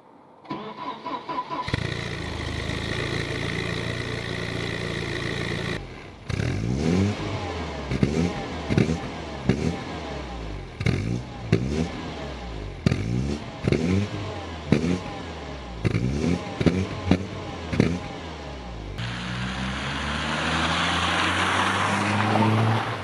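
A Volvo 740 fitted with a race exhaust cranks briefly, then fires and settles into a loud, raspy idle, followed by a string of sharp revs that rise and drop repeatedly, ending in a steady, rumbling run.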